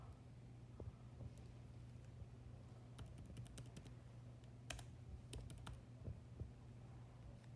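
Quiet keystrokes tap out in short bursts on a computer keyboard while typing into a serial console, set against a low steady hum.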